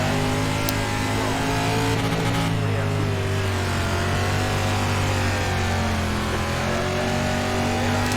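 Race car engine in the iRacing simulator, loud and close, droning steadily with layered harmonic whine that sags slightly as it bogs down, holding on throughout without a break.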